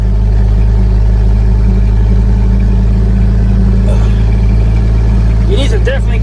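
International Harvester L-130 truck engine idling close up, a loud, steady low rumble with even harmonic drone throughout, someone talking over it near the end.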